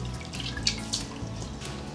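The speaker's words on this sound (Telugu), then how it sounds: "ఒక 2 సార్లు పప్పుని కడిగి" Moong dal is rinsed in water at a kitchen sink, with steady running water and a couple of light drips and splashes, close and with no speech.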